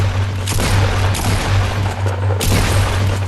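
Gunfire in Fortnite crackles in loud, dense bursts over a constant low rumble, with sharper cracks around the half-second and two-and-a-half-second marks and no talking.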